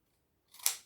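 Scissors snip off small protruding paper pieces in a single short, crisp cut, close and quiet, after a moment of silence.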